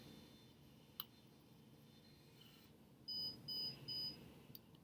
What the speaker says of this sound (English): It'll beep 3 times and let you know it's ready.